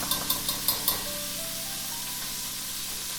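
Miso stirred into a sizzling pan of onions for braised sage chicken thighs, opening with a few quick metallic taps of a utensil, then a steady, even frying hiss that carries on alone.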